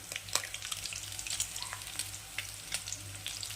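Green chillies and curry leaves frying in hot oil in a pan, producing a quiet, crackling sizzle with sharp pops spread irregularly across a few seconds, close but fairly faint, with no voices.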